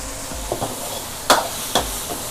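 Shrimp and vegetables stir-fried in a wok for a spicy drunken-style Thai dish give a soft, steady sizzle, broken by a few sharp scrapes and tosses of the spatula.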